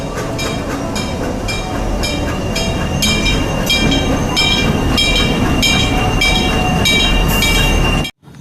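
A red and yellow toy locomotive plays a steady, loud mechanical train sound with rhythmic clicking and a high whistling tone, running without a break before cutting off abruptly near the end.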